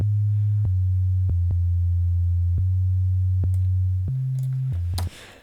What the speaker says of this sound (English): it's just a sine wave at the moment